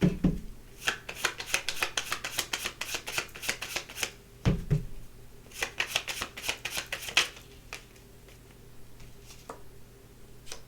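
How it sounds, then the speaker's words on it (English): Tarot cards being shuffled and drawn, a rapid riffling patter in two bursts with a few sharper card snaps between them, close up with no talking. "Let me get a couple of cards out here."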